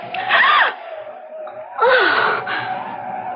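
A woman gasps sharply twice, quick breathy intakes with a rising cry, close and loud against a quiet background.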